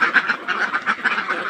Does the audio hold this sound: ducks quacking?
yes